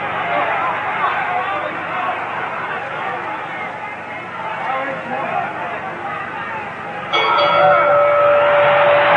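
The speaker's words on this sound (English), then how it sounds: "There's the bell, ending round 1" A boxing ring bell ends round 1 of a 1952 heavyweight title fight between Rocky Marciano and Jersey Joe Walcott, a bright ringing tone rising out of steady crowd roar near the end.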